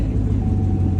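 Chevrolet Camaro SS V8 engine starting up and settling into a loud, steady low rumble close by.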